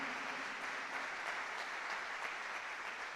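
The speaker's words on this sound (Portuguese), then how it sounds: "Então aplauda ao Senhor" A church congregation applauds the Lord during a worship service, a steady dense wash of many hands clapping that holds evenly loud for the whole stretch with no voices standing out.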